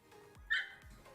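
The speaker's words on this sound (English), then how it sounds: "That was probably a bark out of fear." A single sharp bark from Bentley, a frightened dog, brief and fairly loud against a quiet indoor background with faint low rumbles.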